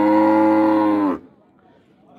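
A dairy cow at a cattle fair in Dois Riachos, Alagoas gives one loud, sustained moo close by, which cuts off abruptly and leaves faint background murmur.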